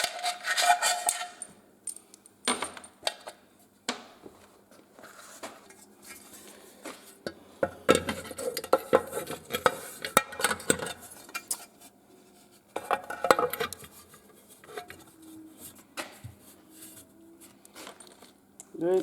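Metal clinks and clatters of a gearbox cover being fitted onto a Renault Nissan Dacia gearbox, scattered sharp taps and scrapes with quiet gaps between them.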